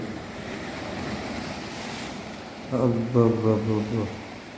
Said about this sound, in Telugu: చూడుండ్రి వెనక్కి పోతుండే నీళ్ళు చూడుండ్రి